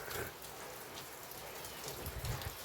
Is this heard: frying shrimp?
no